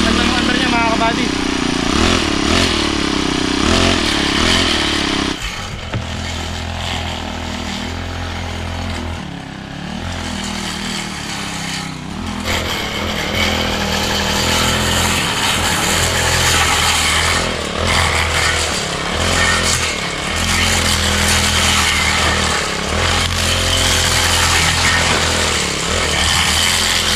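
Brush cutter engine running steadily while clearing thick overgrowth on a vacant lot, a loud, buzzing two-stroke drone that dips in pitch and load around the middle then picks back up, with someone talking over it.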